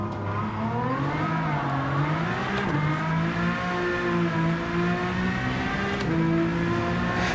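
A car engine in Gran Turismo 7 revs steadily toward high RPM, its pitch rising smoothly, falling back at a shift and climbing again, loud and close with no talk.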